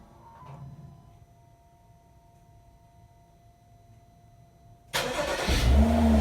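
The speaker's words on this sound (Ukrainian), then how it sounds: "Все, машинка запустилась, працює, вона знаходиться в дистанційному запуску під охороною." Engine of a BMW X6 F16 starting by remote start: a quiet stretch, then the engine fires abruptly near the end and settles into a loud, close running sound.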